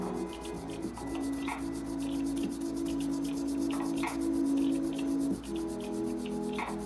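A brush with cut-short bristles rubs graphite across paper while shading, giving a steady, close scratchy rasp with repeated short strokes throughout.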